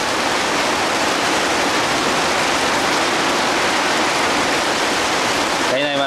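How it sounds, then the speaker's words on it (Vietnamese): Heavy rain roars down outdoors around a guava tree, a dense, unbroken wash of noise like a waterfall, loud and steady throughout. "Ui, mưa to quá."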